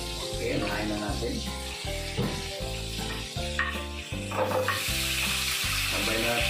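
Garlic frying in a pan for a creamy garlic chicken with mushroom, steady close sizzling with a utensil stirring and scraping in a rhythmic pattern throughout.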